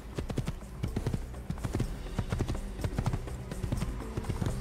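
Horse hooves clip-clop steadily in Assassin's Creed as a rider sets off toward Damascus, an even rhythmic trot of many close, crisp hoofbeats running continuously over a low in-game ambience.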